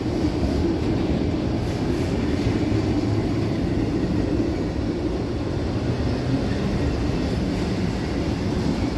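A Union Pacific light power move, locomotives running without a train, rumbles past in a steady low drone that holds evenly loud from start to finish with no voices.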